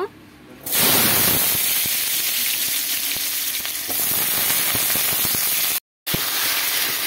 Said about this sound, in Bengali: এই যে কড়াইতে তেল দিয়ে দিয়েছি, আলুগুলোকে ভেজে নেব।